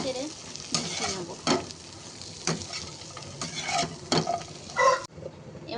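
Taro leaf stalk curry with salt and turmeric fries in a pan, a steady sizzle broken by repeated scraping strokes of a spatula stirring the mixture, close and fairly loud.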